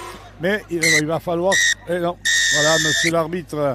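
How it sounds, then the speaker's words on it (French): A half-time siren at a Super XIII rugby league match between Carcassonne and Limoux sounds as a steady, sustained tone for just under a second, heard under excited French commentary. "C'est la sirène qui retentit."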